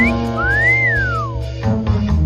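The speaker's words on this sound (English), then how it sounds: "You whistling at me, good sir?" A character in Fallout 76 whistles a loud, close, rising-then-falling note, sliding up and trailing back down, over a steady humming game backdrop with no speech.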